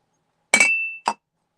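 A Heisey glass lid clinks against glass twice, a bright ringing tap with a short sustained tone followed by a smaller second tap, close and alone in silence.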